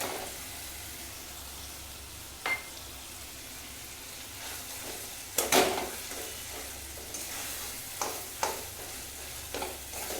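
Chicken mince, 250 grams, being stirred and fried in a pan with spices and a little water, giving a steady soft sizzle with scraping stir strokes and a few sharper clatters of the spoon against the pan.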